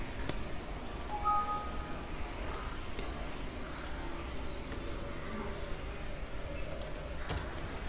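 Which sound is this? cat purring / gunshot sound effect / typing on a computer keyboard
typing on a computer keyboard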